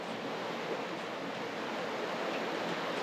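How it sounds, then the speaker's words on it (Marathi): Heavy water rushing beneath a bridge on a rainy-season village outing near Pune, a steady broadband roar of flowing water filling the whole stretch at constant loudness with no voices. "खालून पाणी वाहते भरपूर"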